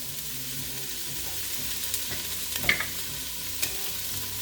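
Chopped celery and purple onion sauté in a pan for a fettuccine sauce, giving a steady broadband sizzle with soft stirring scrapes and a few louder clicks of a utensil against the pan, close and without talk.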